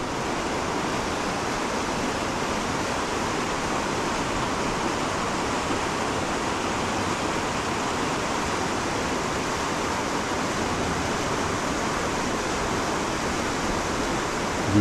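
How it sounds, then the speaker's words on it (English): Water rushes steadily around a small island in the middle of Sweetwater Creek, a loud, continuous broadband roar that stays even throughout, with no voices. "appreciate the rushing of the water around this small island in the middle of Sweetwater Creek"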